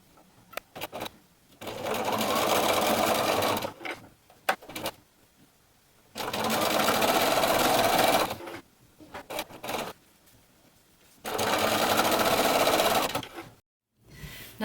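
A sewing machine top stitches along a knit fabric headband in three loud, steady bursts of rapid whirring, separated by quiet pauses with light handling noises.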